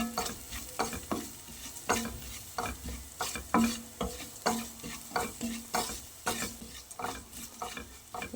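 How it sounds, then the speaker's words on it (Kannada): Ingredients for Bangalore brinjal dal frying in a pan, with rhythmic spatula scrapes and knocks over a low sizzle, repeated steadily and close, no voices. "ಇದು ಸ್ವಲ್ಪ ನಾವು ಫ್ರೈ ಮಾಡಬೇಕು."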